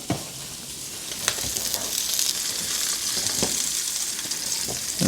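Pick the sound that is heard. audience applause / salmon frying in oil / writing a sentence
salmon frying in oil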